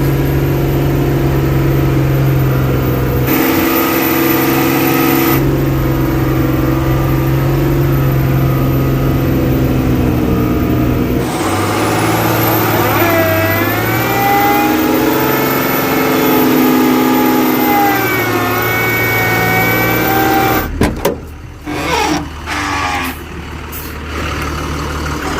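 A loaded diesel truck hauling soil grinds along in low gear, its loud, steady engine drone rumbling close throughout before giving way to clattering knocks near the end.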